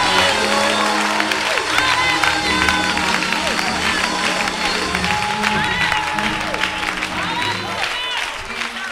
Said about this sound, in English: Give him a praise, a clap offering.